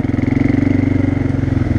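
An ATV quad engine idles close by with a loud, fast, even chugging pulse that holds steady for the whole short stretch.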